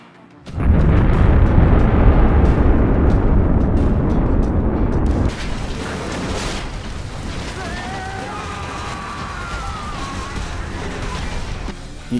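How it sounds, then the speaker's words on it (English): A bomb explodes in Jet Li's action film The One with a sudden, massive roaring blast that rumbles for several seconds, then settles into crackling debris and a lower lingering rumble. "U-Law gets the drop on them and drops the bomb on them as well"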